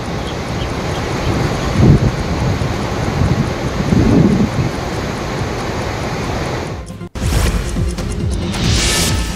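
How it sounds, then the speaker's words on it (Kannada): Dhanushkoti waterfall in KR Nagar, Mysuru district, in full flow after heavy rain roars as a loud, constant rush of water with wind buffeting the microphone, cut briefly near the end before resuming. "ಮಹಾಮಳೆಗೆ ಮೈಸೂರು ಜಿಲ್ಲೆಯ ಕೆಆರ್ ನಗರದ ಧನುಷ್ಕೋಟಿ ಜಲಪಾತಕ್ಕೆ ಜೀವ ಕಳೆ ಬಂದಿದೆ"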